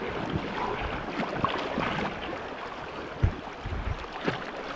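Strong river current rushing around a water tube on a river in Barangay Banate, a continuous close watery wash with a few splashy bumps.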